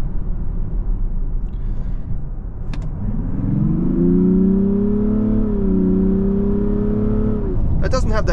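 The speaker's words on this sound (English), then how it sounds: "I'll just slow down and show you the kickdown." A Mazda CX-90 D50e diesel accelerates hard on kickdown, a low rumble swelling into a rising engine drone that climbs steadily, holds, then eases, heard from inside the cabin.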